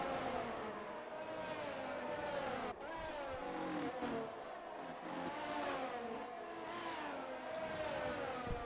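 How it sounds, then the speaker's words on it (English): A Ferrari race car in a sim racing game roars past with several engines, high harmonic whines rising and falling through gear shifts, loud and continuous, a brief dip as one car passes close, no talk. "The Ferrari has just gone past Johnny R."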